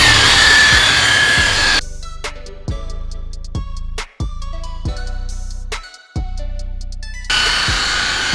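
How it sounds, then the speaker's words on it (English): A rotary polisher buffs the paint on a dog-scratched Subaru during a finishing pass. The machine whirs loudly and steadily. Its pitch shifts and dips briefly as the pad glides and is pressed across the panel, with no talk. "when I'm doing this finishing step with my rotary, I'm doing more of a glide, but I'm still giving pressure"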